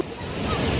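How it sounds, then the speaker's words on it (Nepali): Rushing water at Laukhi waterfall in Nuwakot, a steady broadband roar close by and growing slightly louder, with wind buffeting the microphone and no clear talk. "फाइनली हामी लौकी झरनामा छौँ।"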